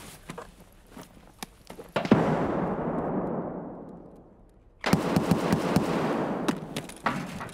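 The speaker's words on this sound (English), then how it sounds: "What the fuck are they shooting at?" Gunfire in Escape From Tarkov rings out in the distance, with scattered thuds and footsteps. Two loud, booming blasts have long rumbling tails, one near the start and a second sharp one midway, surrounded by smaller clatter.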